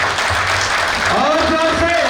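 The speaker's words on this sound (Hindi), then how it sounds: "एक बार संजीत के लिए जोरदार तालियां" An audience at a 2018 alumni meet applauds in a thick, continuous burst, with a voice talking over the clapping partway through.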